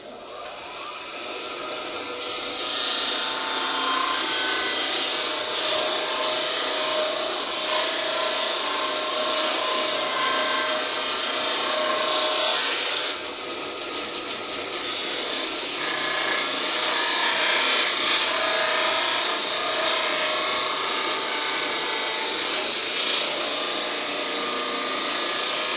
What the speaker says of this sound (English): All we're going to do is we're going to sand it down right to the line.